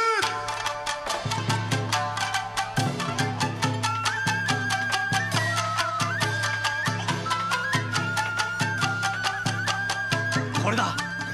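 Tsugaru shamisen played fast at a contest, with sharp, percussive plucked strikes in a driving rhythm and bright twangy notes that slide in pitch, loud and close with no voices.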